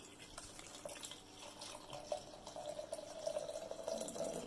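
Hibiscus tea is poured from one vessel into another, giving a thin, steady trickle of liquid that grows slightly louder toward the end, quiet and close with no talking.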